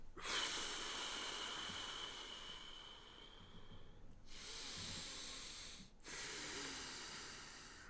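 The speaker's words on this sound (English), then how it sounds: "Quickly take several deep breaths." Several deep breaths drawn through the nose, each a long hissing inhale or exhale close to the microphone, separated by short pauses.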